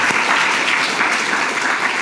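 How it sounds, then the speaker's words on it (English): A conference audience at a global health lightning talks session applauds the speakers, a thick, even roar of many hands clapping that holds steady throughout without speech. "just to continue the applause, to thank all of our speakers today"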